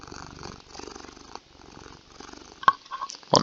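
A cat named Dexter purring on a lap, a soft low rhythmic rumble close by, followed by a few brief rustles and bumps of movement.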